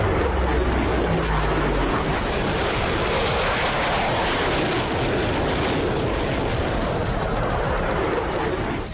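A Boeing F-15EX Eagle II fighter jet gives off a loud, steady, broadband roar that stays powerful for the whole stretch, with no voices over it.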